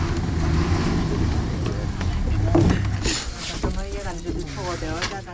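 A passenger launch's engine runs with a continuous low rumble, mixed with wind and water noise, while someone talks over it.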